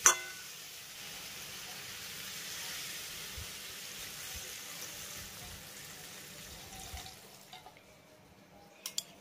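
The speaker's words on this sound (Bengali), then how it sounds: "আর এবার আমি এর ভিতরে অ্যাড করব জল" Water pours into a pan of spiced vegetables with drumsticks cooking for a Bengali vegetarian curry, a continuous soft hiss and splash under faint background noise, ending with a few small clicks.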